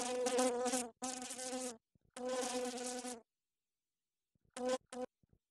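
Buzzing of flies, loud and close in several bursts separated by silence: two long stretches at the start, then a few short buzzes near the end.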